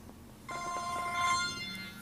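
A cell phone rings with a bright electronic ringtone that begins partway through and keeps sounding steadily, heard at moderate distance over a quiet room with no talk.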